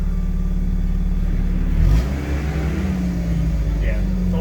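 A Dodge Challenger SRT8 engine rumbles with a deep, steady low idle that briefly swells around the middle, close and continuous, with people talking over it.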